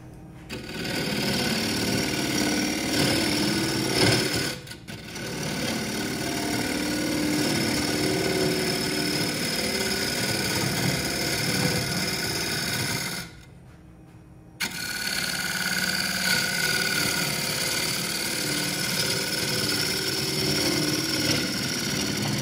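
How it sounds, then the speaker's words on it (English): Black locust bowl turned on a lathe with carbide tools: a steady, continuous motor whir with scraping cutting noise runs throughout, broken by two brief dips where the tool pauses, with no talking. "I decided to try out my carbide tools, and it definitely made the whole thing a lot easier to turn"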